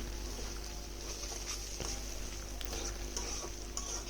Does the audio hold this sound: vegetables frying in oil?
yes